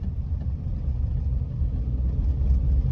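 Steady low rumble of a Tata Nano's cabin while driving, a continuous engine and road drone with no voices.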